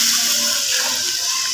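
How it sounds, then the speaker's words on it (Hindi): Jaggery water pours into a pot of rice as a steady, unbroken, fairly loud rush of liquid, with no talk. "अब हम इसमें डाल रहे हैं गुड़ का पानी"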